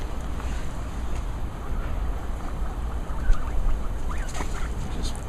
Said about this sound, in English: that's the sound of guinea pigs in the background mating